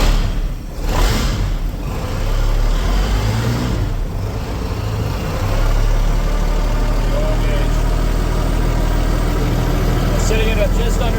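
An old marine flathead boat engine, left sitting in a field for years, runs at a steady, loud low idle with a continuous rumbling drone and a few brief rattling bursts near the start.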